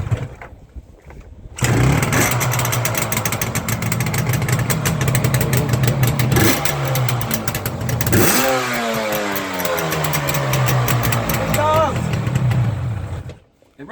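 A barn-find Yamaha RD350LC motorcycle, unrun for 29 years, cranks and fires, then its two-stroke engine runs loudly with rising and falling revs and a brief blip midway, with people talking over it.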